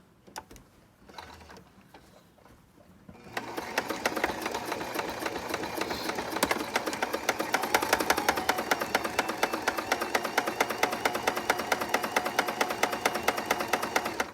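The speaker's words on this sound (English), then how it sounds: "So we're just going to sew straight down." A sewing machine stitches a straight seam down a fabric face mask, starting after a quiet, fumbling moment and then running steadily with a fast, even mechanical chatter, close and unbroken to the end.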